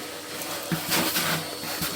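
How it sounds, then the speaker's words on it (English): A Hoover vacuum cleaner runs steadily beside a cast iron wood burning stove, giving a loud, continuous broadband whoosh. A few small knocks sound through it as the nozzle moves. "I even checked the Hoover"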